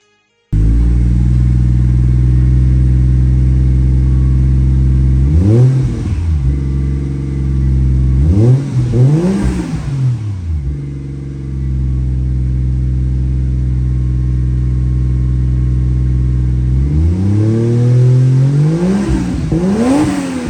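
Toyota Chaser JZX100 with a 1JZ turbo engine idling loud and close, then revving sharply in three separate bursts that climb and fall before settling back to a steady idle.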